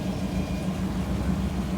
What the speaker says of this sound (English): You can hear the engines purring